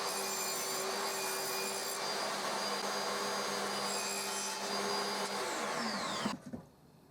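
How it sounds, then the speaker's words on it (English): A power saw cuts a pallet wood panel to size, a steady loud whining buzz holding for about six seconds before the blade exits the wood and the motor spins down, no voices. "So I need to cut my panel 231mm by"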